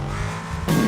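A video game car engine revs hard near its limit, a buzzy sustained drone that shifts abruptly in tone partway through, close and loud with no talk.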